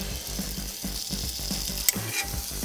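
Sauerkraut sizzling on a Blackstone griddle, a steady close hiss carrying a rhythmic scraping and clicking of a spatula, with one sharp clink near the end and no voices.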